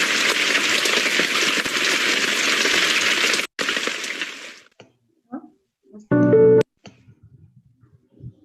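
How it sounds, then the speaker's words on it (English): Rain falls in a steady, loud hiss for about four seconds, then fades to silence broken by a few scattered clicks and a short tonal beep. "Rain."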